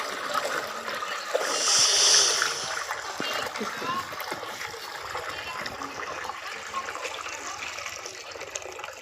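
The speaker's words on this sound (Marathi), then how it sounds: "आता राहिलेले 10 लिटर पाणी टाकून घ्यायचं." Ten litres of water pour into a bucket of dissolved lignite powder solution, mixed at 2 kg per 20 litres, making a steady, soft splashing rush that swells briefly near the start and then runs on evenly.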